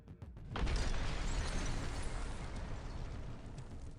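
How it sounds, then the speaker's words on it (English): A grenade launcher blast destroys a house in a combat zone in the Dnieper region. A sudden loud boom gives way to a sustained, dense roar of collapsing debris that stays heavy for several seconds. "A house was destroyed with a grenade launcher."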